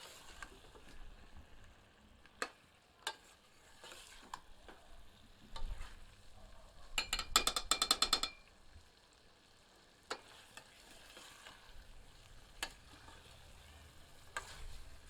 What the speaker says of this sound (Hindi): और इन्हें मसालों के साथ अच्छी तरह भूनते हैं।